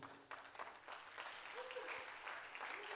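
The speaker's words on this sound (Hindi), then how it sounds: "अरे जोर से बजाओ, आपके लिए ताली बज रही है." Audience applause at a management conclave of the IMA, a quiet, distant run of many hands clapping that stays steady throughout, with a voice briefly heard over it.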